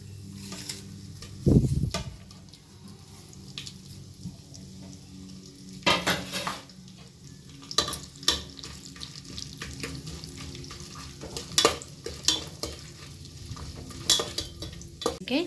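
Whole spices (fennel, cardamom, kasuri methi, marathi moggu, cinnamon, cloves, cashews and bay leaves) sizzle softly in a pan for egg biryani, with repeated sharp clinks and scrapes of a spoon stirring against the metal throughout.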